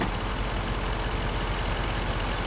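A modded GMC 6.6 Duramax pickup truck idles in the video game Farming Simulator 25, a steady, unbroken engine rumble with no talking.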